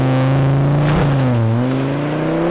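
A modded Ford Focus ST accelerates hard and loud from close range, its engine note climbing, dipping briefly at a shift, then rising again.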